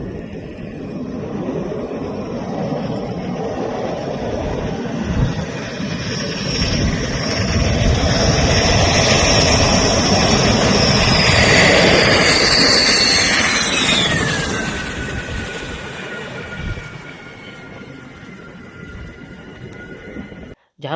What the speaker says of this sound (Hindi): सभी एयरक्राफ्ट ने दोपहर 3:05 पर अंबाला एयरबेस पर टचडाउन किया।